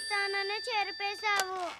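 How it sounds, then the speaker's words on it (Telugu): A phone ringing indoors, a short melodic electronic ringtone of repeated tonal chimes, fairly clear and close. "సైలెంట్ గా ఉండండి రా, ఫోన్ వచ్చింది."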